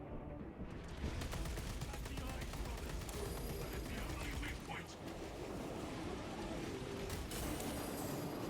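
Sustained gunfire aimed at a giant eye in Space Marine 2: a dense, continuous stream of rapid shots and rumbling impacts, with a player talking over it.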